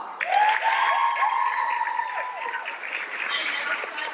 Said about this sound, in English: Let's give our Titans a round of applause.